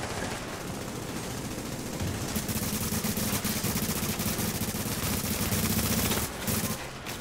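Rapid bursts of automatic gunfire from the video game The Division crackle loudly and almost continuously, with dense repeated shots layered over a steady low drone and a brief lull near the end.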